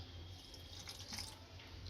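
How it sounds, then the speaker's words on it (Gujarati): A small trickle of water poured into a batter of gram flour, semolina and curd for Surti locho, a faint, brief splashing pour heard up close in a quiet kitchen with no talk. "થોડુંક અમથું પાણી નાખશું।"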